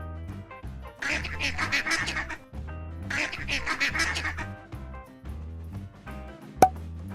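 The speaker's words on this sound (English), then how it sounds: "This is a duck." A duck quacks in two rapid, raspy bursts of calls, each lasting over a second, heard plainly above a bouncy backing music track.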